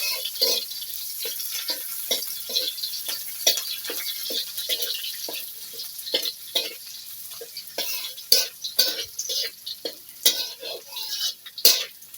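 Onions fry in a pan with a steady crackling sizzle while a utensil stirs and scrapes in a quick, irregular rhythm, close and fairly loud.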